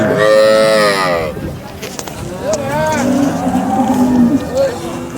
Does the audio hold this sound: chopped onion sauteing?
no